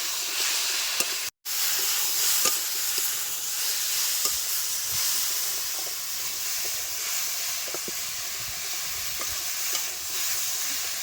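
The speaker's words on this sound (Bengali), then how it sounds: "এবারে দেবো হলুদ নুন হলদি দিয়ে আমি আমগুলো একটু ভালো মতো কষায় নেব" Raw mango pieces sauté in a pan with turmeric and salt, giving off a steady close hiss and sizzle, with soft stirring scrapes and light taps scattered throughout and a brief dropout near the start.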